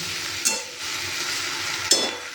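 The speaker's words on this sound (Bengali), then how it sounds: "তারপরে আবার কিছুক্ষণ নেড়ে চেড়ে কিছুক্ষণ ঢাকা দিয়ে রেখে দিলে কিন্তু আলু ভেন্ডি ভাজাটা আমার রেডি হয়ে যাবে" Okra and potatoes fry loudly in a pan with a constant close sizzle, while a utensil stirs through them with three distinct scraping clanks.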